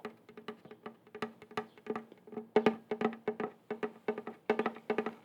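Soft, slow fingertip tapping on the wooden body of an acoustic guitar, close and intimate, in uneven clusters of light knocks with brief pauses between.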